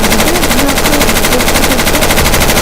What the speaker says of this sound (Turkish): silah sesleri çok yani gerçekçi yapıyor